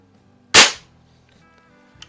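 A Benjamin model 352 .22 caliber CO2 rifle from the mid-1950s, powered by an 8 gram cartridge, fires one sharp, loud shot that decays quickly, followed by a faint click.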